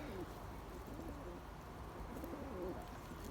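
Pigeons coo softly in a loft, a few low rolling calls heard at some distance over a steady background hum, with no talk.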